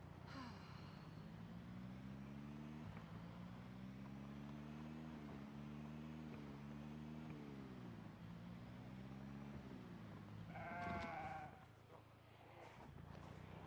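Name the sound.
sheep bleating in video game Project Zomboid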